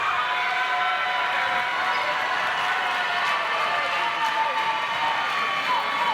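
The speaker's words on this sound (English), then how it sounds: "You hear the Highlands crowd across the way" Home crowd at a Highlands high school basketball game against Knoch fills the gym with a steady, dense roar of voices and cheering during a free throw, holding an even level from start to finish.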